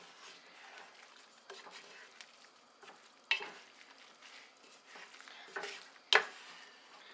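A spoon stirs a tamale mixture, making soft wet scraping and squishing strokes close by, with several louder scrapes against the bowl spaced a second or two apart over a quiet background.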